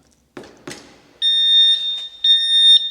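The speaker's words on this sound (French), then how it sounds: "On va entendre un petit bip." Two dull knocks from a kick against a motorcycle anti-theft lock, then long, shrill electronic warning beeps sounding in short bursts, close and loud.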